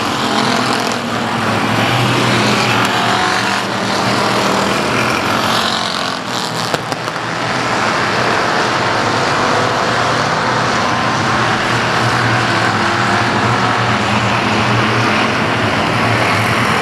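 Race cars at South Texas Speedway on the final lap, heard as a loud, continuous roar of engines that holds steady throughout and stands alone without speech.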